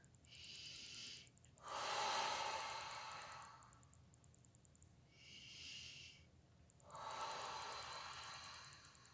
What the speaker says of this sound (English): So taking deep breath here.